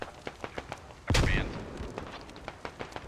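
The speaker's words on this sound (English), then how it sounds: "Tossing the AT grenade right on the position. Oh my god, blasted into the tree." An AT grenade blast in a military shooter video game: one heavy, booming explosion near the start, surrounded by scattered distant gunshots and faint in-game voices.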